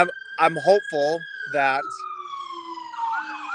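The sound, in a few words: emergency vehicle sirens passing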